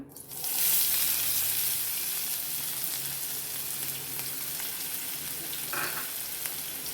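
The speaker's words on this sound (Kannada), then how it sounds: "ಸ್ವಲ್ಪ ಫ್ರೈ ಮಾಡ್ಕೊತೀನಿ" Onions hit hot oil in a pan for homemade gobi manchurian, bursting into a loud sizzle that settles into a steady frying hiss, with a brief scrape of stirring near the end.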